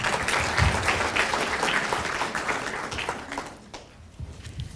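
Applause from an audience at a university International Education Week opening ceremony, a dense wash of many hands clapping that stays steady for several seconds, then thins and fades toward the end.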